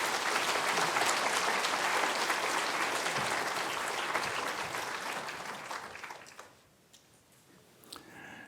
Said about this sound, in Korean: 여러분, 감사와 또 격려, 위로의 박수로, 큰 박수로 맞이하겠습니다.